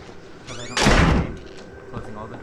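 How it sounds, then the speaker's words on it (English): A door shutting in the horror video game Outlast, a heavy slam with a sliding rush that rises sharply and fades over about half a second, followed by quieter knocks and a faint voice. "closing all the doors behind me."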